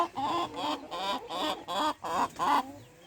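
Brahma chickens clucking in a poultry yard, a close run of repeated throaty clucks and short calls in quick succession, with no talking over them.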